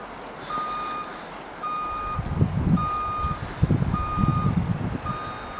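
Snow plow truck backing up after a blizzard, its reversing alarm beeping steadily in five evenly spaced tones, with rumbling engine and scraping noise building beneath the later beeps.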